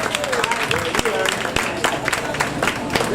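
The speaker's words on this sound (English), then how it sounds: "Let's give yourselves a round of applause." An audience of grandparents applauds at an elementary school Grandparents Day event, clapping in an uneven burst with sharp individual claps, some voices and cheering mixed in.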